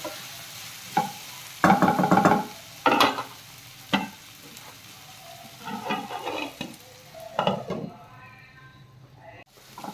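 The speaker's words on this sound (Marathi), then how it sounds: "थोडंसं हलवायचं." Masala gravy for shahi matar paneer stirred in a pan, giving repeated scraping, bubbling strokes at an irregular pace with low sizzling between them. It is fairly close and moderate in loudness, with no talk.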